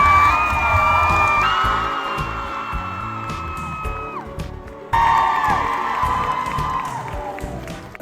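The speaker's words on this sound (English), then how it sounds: "round of applause for this guy." A large crowd cheers and whoops loudly, with a burst of renewed cheering midway, sustained throughout.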